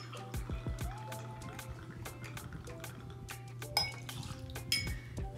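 Jack Rye whiskey being measured and poured into a jigger for a mint julep, with light glassware clinks and a soft liquid pour over a steady low hum.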